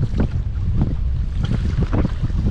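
Strong wind buffets the microphone on open water during kayak fishing off Melaka, a steady loud roar with gusting surges and low rumble throughout, no voices.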